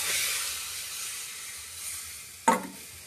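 Noodle ingredients sizzle in a hot kadai, a loud hiss that gradually fades, then a sharp clatter and a fresh burst of frying near the end.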